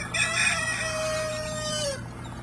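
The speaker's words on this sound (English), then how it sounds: "Chickens are very curious creatures." Chickens and a rooster at a farm animal sanctuary: a close rooster crow rises and stretches out for about two seconds over soft clucking, then fades.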